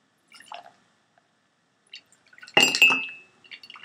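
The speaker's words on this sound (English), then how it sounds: "That's a glass of water." A glass of water gives one bright clink that rings out briefly, preceded by a few faint small taps, with no talking.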